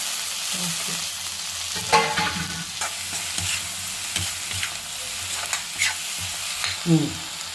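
Onion and tomato sauté in a pan for a Tamil kuzhambu, a steady close sizzle broken by scraping stirs and occasional louder clinks of the spoon against the pan, with no voices.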